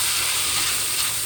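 Tomatoes sizzle and hiss in a hot pan as they soften, a steady close frying crackle with no pauses and no talking.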